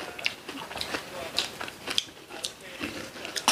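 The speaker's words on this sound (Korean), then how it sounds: "엄청 바삭바삭해." Freshly fried, crunchy food from an assorted fried platter is bitten and chewed close up, with a run of sharp, irregular crunches and faint voices in the background.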